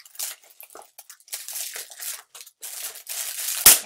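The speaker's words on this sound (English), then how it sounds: "Take off the wrapper." Plastic wrapper on a James Bond Bloodstone game package being peeled and crumpled off, close and crinkly in irregular bursts, ending in one sharp louder crackle.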